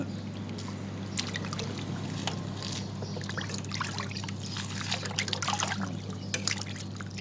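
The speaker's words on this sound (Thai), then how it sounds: "ใส่น้ำใส่น้ำเย็นเลย" Cold water pours into a pot of pork with a continuous trickling splash over a steady low hum.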